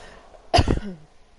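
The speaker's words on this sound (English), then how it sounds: "It's making me feel like I need to cough." A single loud cough bursts out close by, a short harsh blast followed by a brief tail, with quiet before and after.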